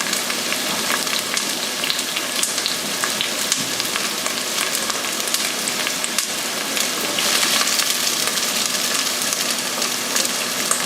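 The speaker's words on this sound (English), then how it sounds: "Onions in." Onions tipped into smoking-hot light oil in a pan sizzle loudly and continuously, a dense close frying hiss that holds steady throughout with no talking.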